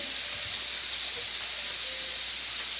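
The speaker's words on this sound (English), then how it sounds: "We just drained our pasta" Steam hisses steadily off hot pasta just drained in a kitchen, a continuous, fairly quiet breathy rush with no pauses, alone without talk.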